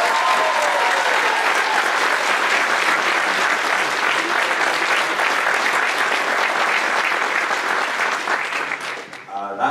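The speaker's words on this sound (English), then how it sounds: "Let's give her a round of applause." An audience at a school spring concert applauds a teacher, giving steady, dense, loud clapping that fills the space and fades slightly at the end.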